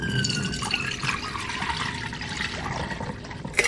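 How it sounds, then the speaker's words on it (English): Water sloshes and trickles as bikini fabric samples are submerged in a chlorine solution, a steady wet swirl with a small splash near the end and no voices. "They submerge the samples in chlorine to see if they can handle a few lengths in the pool."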